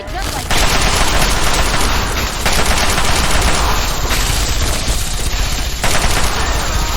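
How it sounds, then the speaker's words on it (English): Heavy continuous gunfire in the 2008 video game Fallout 3 during the Raven Rock battle, a loud, unbroken barrage of overlapping shots lasting the whole stretch, with voices faintly underneath. "Keep firing."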